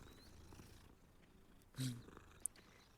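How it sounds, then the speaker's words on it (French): Kitten purring in the video game Hogwarts Legacy, a soft low rumbling purr heard faintly, with a brief louder bump near the middle and a short sharp chirp just after. "C'est quoi? Oh, un petit chaton."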